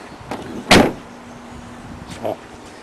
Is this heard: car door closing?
yes